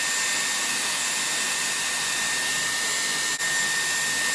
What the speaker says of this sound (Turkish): Saçımı çıkarmadan önce soğuk havaya getiriyorum.